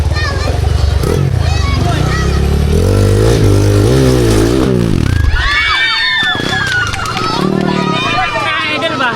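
An enduro trail motorcycle running an open carburetor revs loudly and rises in pitch, with a crowd of children and spectators chattering around it at a trail competition.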